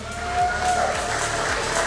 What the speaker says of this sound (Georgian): გაბრიელ ბარამიას აპლოდისმენტებით გქონთ რომ გავაცილოთ